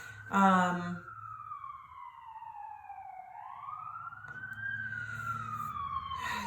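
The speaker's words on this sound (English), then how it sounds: "there's a siren all of a sudden" A siren wails alone, its pitch sliding down then rising again in a long sweeping cycle, fairly loud over a low rumble of traffic.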